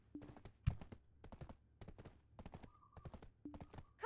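Horse hooves clip-clopping at an even trot in the video game Black Desert Online, crisp repeated thuds close by with a soft whinny and faint game effects between steps.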